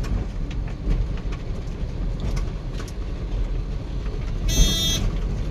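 A heavy lorry drives along a narrow road that fits only one lorry at a time, a steady low engine rumble with road noise and brief higher bursts, including a short bright tone near the end.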